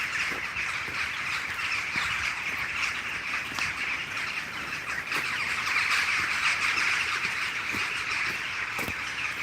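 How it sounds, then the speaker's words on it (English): Birds call at night outdoors, a steady chorus of chirps and caws with scattered sharper calls over a constant background hiss, moderately distant and without talking. "I'm talking too much, you can't hear all the birds"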